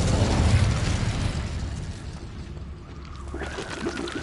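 Incendio fire spell cast in Hogwarts Legacy on PS5 Pro: a loud burst of fiery whoosh up front settles into a steady, rumbling roar that swells slightly again near the end, with no voices.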